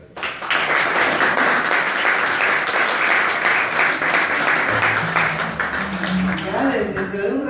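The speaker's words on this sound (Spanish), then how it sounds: "a todos ustedes les pido un fuerte aplauso para él" A live tribute show audience breaks into sustained, loud applause that fills the room for several seconds, with a few voices and some low tones rising beneath it toward the end.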